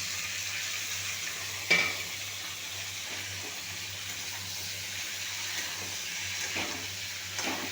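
Steady low sizzle of beans, potato, brinjal and spinach with onion seeds frying for chorchori, with an occasional soft scrape of stirring over a continuous background hiss.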